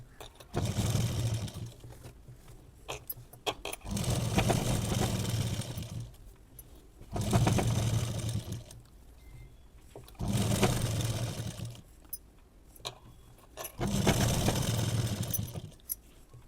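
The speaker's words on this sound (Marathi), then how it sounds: "लेस मध्यभागी आत शिलाई मारून घेतलेली" A sewing machine stitches half-inch lace onto a blouse in five separate runs, each two to three seconds of fast, steady whirring. Brief quiet pauses and light clicks fall between runs, with no speech.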